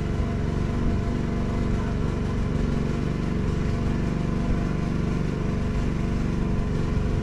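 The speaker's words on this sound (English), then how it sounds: "The generator is really trying hard." A tri-fuel converted Motor Snorkel 8750W generator strains under a 4-ton air-conditioner load with a dense, steady engine drone. It holds at constant loudness and close range throughout, with no talk.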